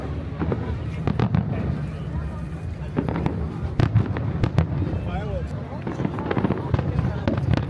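Fireworks popping and crackling in rapid irregular bursts at an outdoor desert camp near Liwa in the UAE, heard moderately close under constant background chatter and people talking.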